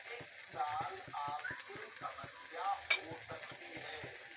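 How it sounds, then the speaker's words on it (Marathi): Vegetables for hirvi bhaji sauté in a pan with spices, a soft close sizzle broken by the repeated scrape and clack of a stirring spoon, with no one speaking. "छान परतून घेऊ."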